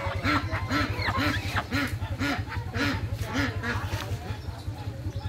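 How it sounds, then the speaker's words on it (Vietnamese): Ducks at a rural market in Vietnam's Mekong Delta, a dense chorus of rapid, rhythmic nasal quacks close by, with market voices talking over them. "Quá trời mấy vịt."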